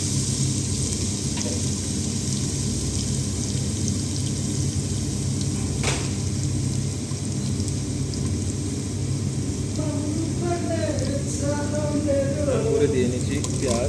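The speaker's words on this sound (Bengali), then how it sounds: "তেলটা যখন গরম হয়ে আসলো তখন দিয়ে দিলাম" Chopped garlic sizzles in hot oil for a bitter gourd fry, a steady close hiss throughout, with onion added soon after. A voice briefly sounds near the end.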